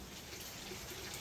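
Water runs steadily from a tap while dishes are washed at an outdoor home kitchen, a soft continuous hiss with no other sounds.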